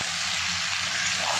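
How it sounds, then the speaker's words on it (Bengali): Onion stalks frying with prawns and carrot in a pan, making a steady, close hiss of sizzling that stays even for the whole short moment. "এদিকে পেঁয়াজ কলিটা চিংড়ি মাছ দিয়ে খুব সুন্দর করে গাজর দিয়ে ভাজি করা হচ্ছে"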